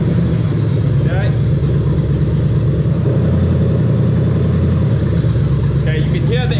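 A Toyota 1UZ-FE VVT-i V8 swapped into a Lexus IS with an R154 manual gearbox runs at a steady, close, low rumble, with talking over it.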